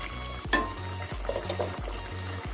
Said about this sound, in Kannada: ಈಗ ಒಂದು ಐದು ನಿಮಿಷ ಇದನ್ನ ಚೆನ್ನಾಗಿ ಈ ಥರ ಕುದಿಸ್ಕೊಳ್ಳಿ